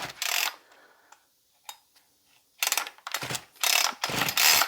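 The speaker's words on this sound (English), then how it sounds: "the Ryobi is not an easy pull" Starter cord on a Ryobi RY3714 chainsaw pulled in several hard, ratcheting bursts, close and loud, with short pauses between the rasping pulls.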